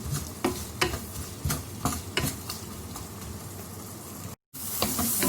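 Onions sautéing over medium heat in a pan for a restaurant-style ayilai (mackerel) fish curry, a steady close sizzle with repeated stirring scrapes and clinks, no talking, with one brief dropout near the end.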